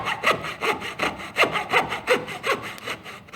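Hand saw cutting wooden crown molding at an undercut angle, a steady run of about nine rhythmic back-and-forth strokes, close and clear, with no voices.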